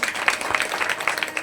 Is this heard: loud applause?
yes